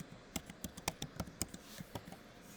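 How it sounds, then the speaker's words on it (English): Typing on a computer keyboard, a quick, uneven string of soft key clicks close to the microphone, quiet and alone with no talking. "And I'm going to type I've escaped."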